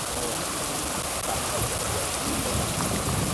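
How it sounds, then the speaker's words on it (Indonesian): Heavy rain pours down with rumbling thunder in the Bali highlands, a dense, loud, steady roar filling the whole stretch with no talk. "Mungkin hujannya akan lama dan kita stop aja ya."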